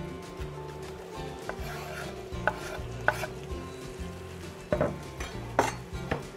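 Palometa fish fries in a pan with a steady sizzle, punctuated by a few utensil scrapes and knocks against the pan, close and moderately quiet.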